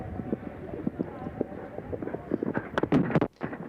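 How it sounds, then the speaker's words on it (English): Hoofbeats of a horse ridden cross country at a 1983 eventing competition, a steady run of soft clip-clop strikes with wind noise, mixed under a commentator's voice. "the tremendous balance of Bill Roycroft when he's riding a horse cross country"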